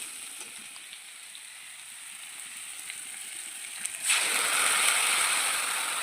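Cardamom, cinnamon and nigella seeds sizzle softly in hot oil in a kadai, then garlic and onion paste goes in and the frying surges into a loud, steady hiss.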